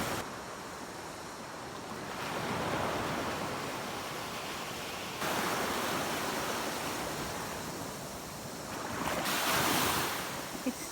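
Choppy sea waves surge and wash at Phi Phi Island, a broad roaring rush that swells and recedes in several pulses with wind buffeting the microphone, no voices.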